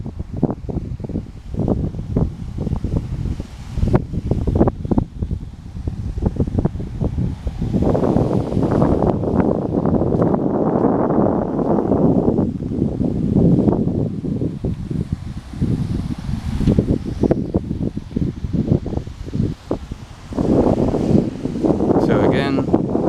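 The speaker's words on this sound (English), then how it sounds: "You'll probably hear the wind now because it's really windy outside" Strong wind outdoors buffets the microphone in loud, continuous gusts around a 1991 Pontiac Firebird, rising and falling over the whole stretch with no clear pauses.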